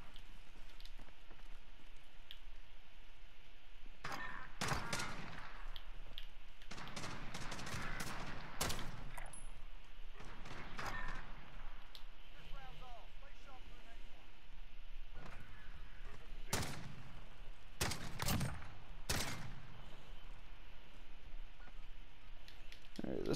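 Bursts of gunfire from the video game Call of Duty: Modern Warfare, several sharp volleys spaced through the clip and fairly loud against a quiet background, with a player talking faintly at times.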